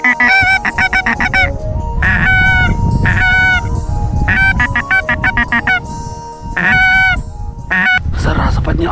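Geese honk loudly and repeatedly close by during a goose hunt, calling over a constant rumble of strong wind.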